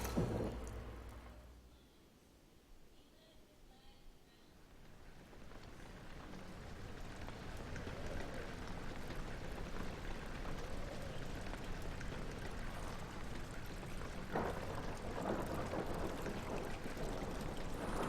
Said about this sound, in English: I'm all wet. It's raining.